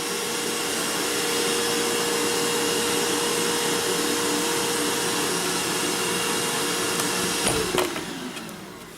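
A vacuum cleaner runs steadily with a constant whining roar, then is switched off near the end so the motor spins down with a click and fading hum.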